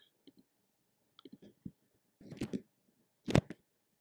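Computer mouse clicks come in a few scattered, quiet groups, with two sharper, louder clicks near the end.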